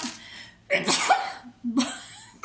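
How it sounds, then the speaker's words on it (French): A single sharp sneeze bursts out close by, followed by a short breathy exhale, in an otherwise quiet room. "avec un petit éternuement au passage"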